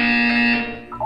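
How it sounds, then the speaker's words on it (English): Loud buzzer in the video game Portal 2, a single sustained harsh electronic tone lasting about a second, close and alone before fading out. "When you hear the buzzer, look down at the floor."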